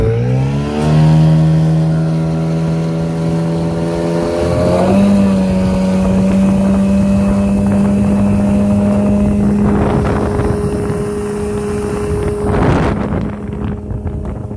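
Outboard motor on an Achilles inflatable dinghy rising in pitch as it gets underway, then holding a steady loud drone with wind buffeting and water splash on a cool day.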